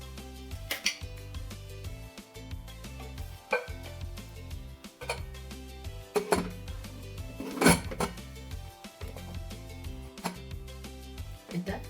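Metal clanks and clicks of a cooker lid being fitted and locked, several sharp knocks spread over a quiet kitchen background.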